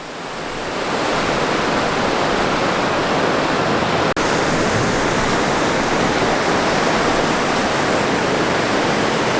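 Sea waves washing onto Ratnagiri beach, a steady loud broadband roar of surf rushing in close by, continuous throughout with one brief dropout midway and no voices.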